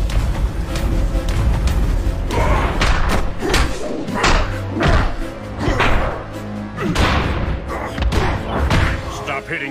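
Cartoon fight impacts as Way Big battles Vilgax: a rapid series of loud, heavy thuds and whacks, roughly a dozen blows in uneven rhythm, with voices and score underneath.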